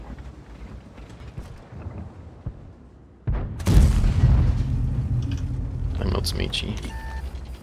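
A tank gun in World of Tanks fires a high-explosive shell, a sudden loud boom that cuts in after quiet game ambience and talk, followed by rumbling mechanical noise and further speech.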